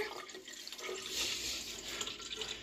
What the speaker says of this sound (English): And then he's pouring his own water.